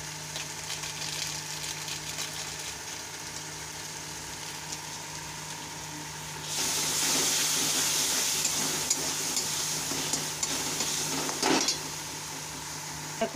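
Masala being fried and stirred in oil for a fish kofta curry, a steady sizzle that swells louder midway and holds at close range with an engine-like hum beneath.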